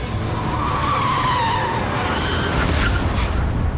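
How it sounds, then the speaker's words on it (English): A car's automatic braking system brings it to a stop just short of a collision, giving a loud, continuous skid with tire squeal that sweeps and wavers for several seconds over steady road noise. "just yards from a collision, the automatic braking system kicks in"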